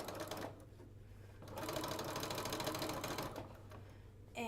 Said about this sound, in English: go ahead and just continue along, sewing our 1/4 inch seam allowance, adjusting if needed, making sure everything stays the same